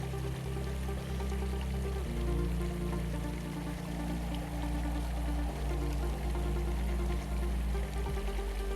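Steady rushing water from a waterfall that has carved a fissure along the Subway trail in Zion, a continuous loud roar with low churning tones and no voices.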